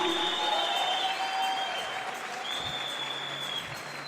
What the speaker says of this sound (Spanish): Alguien déle una ofrenda de palmas a Jesús más fuerte